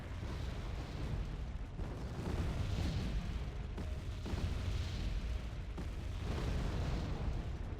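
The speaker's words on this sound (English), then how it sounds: "Okay, artillery did good work there." Artillery explosions in the Wargame: AirLand Battle strategy game, a dense, continuous rumble of heavy booms rolling in waves at close range, with no voices.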